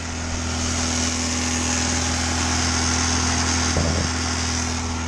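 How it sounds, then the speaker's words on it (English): A Fiat Spider engine idles with the choke on as it warms up, giving a steady, close, unbroken drone with a constant low hum and no talking. "I'm just letting her warm up slowly with the choking. And yeah, she's going."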